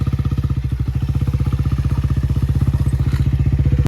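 A motorcycle stuck in monsoon mud revs hard and close, its engine firing in a rapid, even chugging beat for several seconds before cutting off abruptly.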